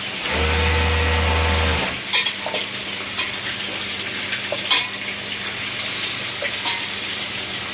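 Meat drops into a pan of sizzling panch phoron, bay leaf and green chilli tempering. A loud, steady frying hiss is followed by scattered clinks and stirring scrapes over continued sizzling.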